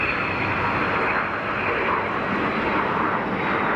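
An Airbus A220 accelerates down the runway at Geneva Airport on its takeoff roll, a loud, steady, broad engine roar that holds close and even throughout with no voices.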